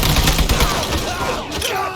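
Dense, continuous automatic gunfire from a shootout in the video game Mafia III, loud and close with rapid overlapping bursts filling the whole stretch, with no clear pauses.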